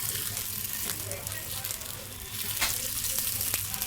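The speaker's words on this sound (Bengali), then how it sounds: "এইভাবে নাড়িয়ে এটা তৈরি করে নেব।" Food frying and sizzling in a small pan on a gas stove while being stirred, a steady close crackle with occasional scraping, no talk.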